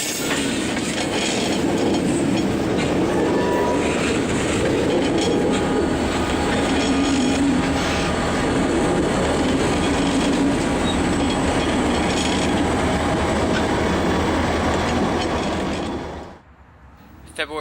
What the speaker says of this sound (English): Now they are shoving these empties back into a yard,